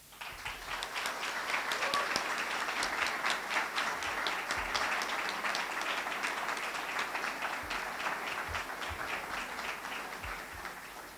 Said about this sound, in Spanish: Para todos, yo les pido un fuerte aplauso.